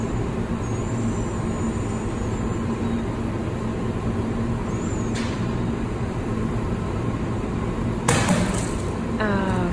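A sudden sharp crack of glass shattering near the end, followed by brief tinkling, over a steady low background rumble.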